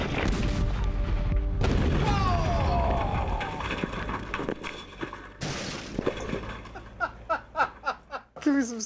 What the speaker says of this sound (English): when the hot water heater finally blows, we're staring right at it because we know where the zone is, and the thud that comes out of it